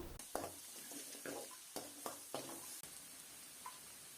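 Chopped garlic frying in hot sesame oil with mustard seeds, sizzling and crackling in a pan, with several soft stirring scrapes and sputters at irregular intervals.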